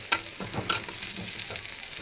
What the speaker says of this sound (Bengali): তো আমার পেঁয়াজগুলো প্রায় লাল লাল হয়ে গেছে, আর একটু লাল করবো, আমি একটু ভাজা ভাজা করবো।